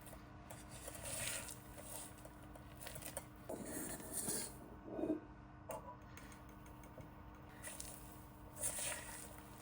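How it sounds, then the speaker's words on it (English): A spatula folds Italian rainbow cookie batter in a bowl: quiet, wet squishing and scraping strokes repeat steadily, close to the mic, with no talking. "Using a spatula, you start to fold it in."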